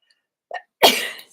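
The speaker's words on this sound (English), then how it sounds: "I'm going to sneeze" A single close, loud sneeze into the microphone, preceded by a brief sharp inhale, then quiet.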